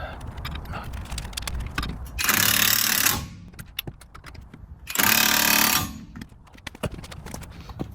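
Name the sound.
removing wheel hub bolts on 2011 Jeep Grand Cherokee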